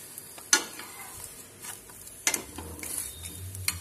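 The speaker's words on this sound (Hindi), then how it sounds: "इस तरफ भी हम ऑयल लगा देंगे, उलट पुलट करके अच्छे से हम पकाएंगे।" Whole-wheat flatbread cooking in oil on a pan while being flipped and pressed, a soft continuous sizzle broken by a few sharp scraping clacks of the spatula.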